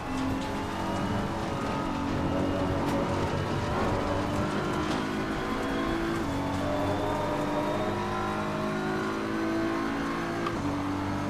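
Race car engines in the Assetto Corsa Competizione racing game roar continuously, with steady engine tones shifting through gears as cars run close together at speed, loud and unbroken with no talk.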